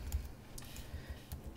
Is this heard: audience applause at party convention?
no